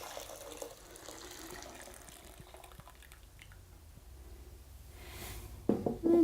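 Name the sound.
water poured into a crock pot with mung beans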